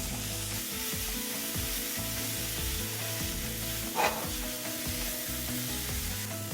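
Boiled, peeled and deseeded tomatoes sizzling in a frying pan for tomato fried rice, a steady close crackle of frying with soft stirring scrapes and one brief louder clatter partway through.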